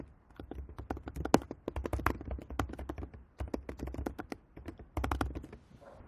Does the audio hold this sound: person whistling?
no